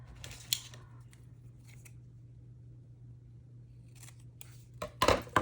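Scissors snipping through paper ephemera while covering clothing tags: a crisp snip near the start and a louder cluster of cuts at the end, separated by a quiet stretch over a steady low hum.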